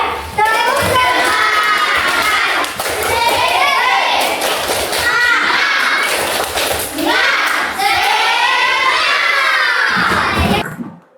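Elementary school children in a classroom perform the 'tepuk semangat' clapping chant, loud and close, with shouted chanting in rhythmic bursts and thumps of clapping, breaking into cheers before falling quiet at the end.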